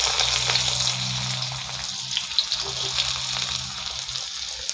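Egg frying in a pan for Sri Lankan chicken kottu roti, a steady, fairly loud sizzle with faint crackles and light stirring, nearby and without speech.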